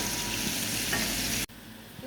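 Thinly sliced onions frying in hot oil for a chicken biryani, with steady close sizzling and stirring that cuts off abruptly near the end.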